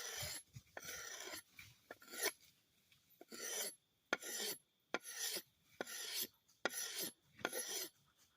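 Cryogenically treated D2 steel knife blade scraping along wood in repeated rasping strokes, each a short burst separated by brief pauses, close and fairly quiet with no talking.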